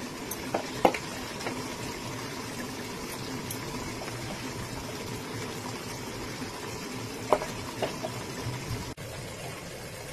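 A paneer curry with capsicum bubbles uncovered in a pan, a steady low simmer and sizzle that runs throughout, close and even, broken by a few faint clinks.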